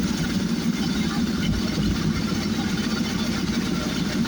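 A GMC 6000 lowrider truck engine with a bad carburetor runs steadily, a continuous low rumbling drone with constant loudness throughout and no talking.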